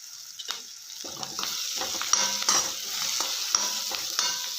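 Spoon stirring sabudana khichdi with chopped coriander in a pan, a faint sizzle under soft scraping strokes in an irregular rhythm, heard close with no talk.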